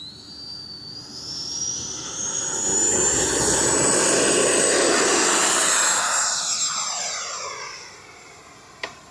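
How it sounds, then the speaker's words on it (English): An FMS 80mm F-86 RC jet with afterburner takes off, its turbine whine building to a loud roar as it passes close, then fading into the distance. "All right, we're going to take off from down there."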